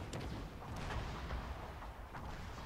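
Muffled, faint battle din from Fall of the Samurai, with French troops' cannon fire booming low over a steady rumble of musket volleys and distant shots, during an attack on Nagoya.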